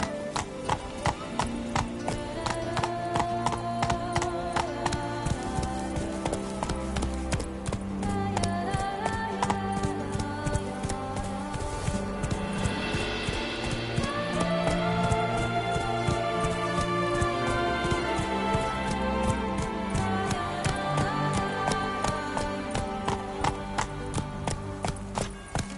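Roach, a horse in The Witcher video game, trots with brisk, even clip-clop hoofbeats that continue steadily throughout, close and clear over a layer of background music.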